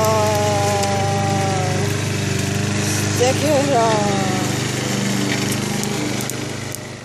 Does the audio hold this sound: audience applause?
no